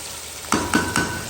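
Lamb frying with onions in a pot: a steady sizzle broken by three quick stirring scrapes in short succession, close and continuous, no voices.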